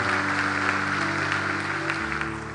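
A church congregation applauds, a dense sustained clapping with a sustained musical tone underneath, filling the room at even loudness throughout.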